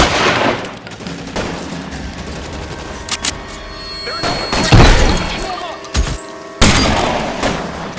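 Gunfire in the 1940s Los Angeles crime game LA Noire, scattered loud shots and bursts with heavy thuds and booms, uneven and close, mixed with game noise and occasional voices.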